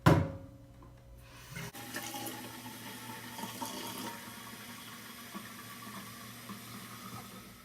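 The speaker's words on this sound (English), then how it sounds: "Then I'm just gonna go ahead and top off my water with some more tepid water." Tepid water pours from a tap to top off fertilizer water, a gushing splash that settles into a steady filling rush, close and moderately quiet, with a brief knock near the start.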